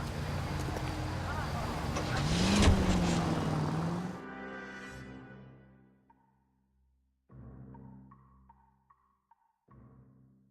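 A car driven in the video game L.A. Noire, its engine a loud, steady drone with a rising whine for about four seconds, then cutting out into quieter, intermittent engine hum with gaps of near silence.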